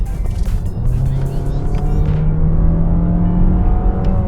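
2023 Mazda CX-30 2.0G High+ Premium with a 2.0-litre naturally aspirated engine and 6-speed automatic, revving and climbing in pitch as a steady loud drone from the cabin, with road noise and a voice talking early on.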